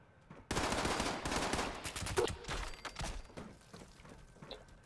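Bursts of enemy gunfire in the video game Fallout 76, a dense volley of rapid shots starting abruptly and continuing loud and near, then thinning into scattered, fainter reports.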